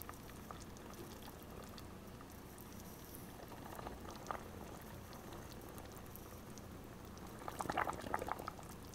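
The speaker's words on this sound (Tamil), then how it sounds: "எல்லா பட்டரும் உருகிட்டு இது மாதிரி பாயிலிங் ஸ்டேஜுக்கு வந்துடுச்சு" Melted butter boiling steadily in a pan while being cooked down into ghee, with a continuous bubbling crackle and a few louder pops near the end, with no voices.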